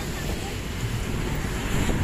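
Breezy wind at Dolomite beach in Manila, a steady close rush buffeting the microphone with a dull low rumble throughout.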